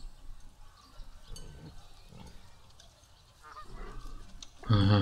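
Geese honk in the video game Satinavs Ketten, with scattered nasal calls over a quiet background and a louder burst of honking right at the end.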